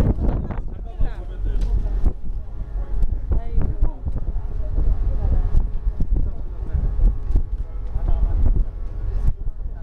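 Wind buffets the microphone on the open deck of a Gibraltar ferry, a steady low rumble with gusty swells throughout, while people talk close by.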